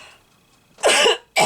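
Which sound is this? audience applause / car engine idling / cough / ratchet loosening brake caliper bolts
cough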